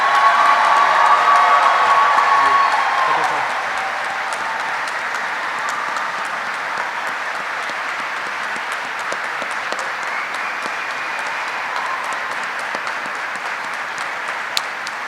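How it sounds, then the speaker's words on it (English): An audience at a U.S. Army flight school graduation ceremony applauds the new aviation graduates, with steady, dense clapping and a few cheers that swell at first, then settle into sustained applause throughout. "Please join me in a round of applause for the Army's newest aviation warfighters."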